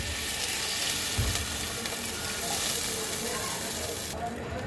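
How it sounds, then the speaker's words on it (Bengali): Water is poured into sizzling, oil-rich masala for an aair fish curry with chalkumra bori: a dense, steady hiss of frying that fills the clip, then softens near the end as the water settles in. No one speaks. "ঝোলের জলটা দিয়ে দিলাম"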